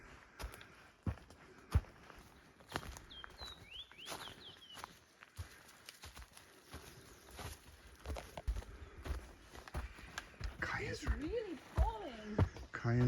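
Footsteps on a quiet forest trail on Fogo Island, Newfoundland, with a dog along, repeated crunching steps at a steady walking pace, near and moderately loud, with faint bird calls early and some rustling toward the end.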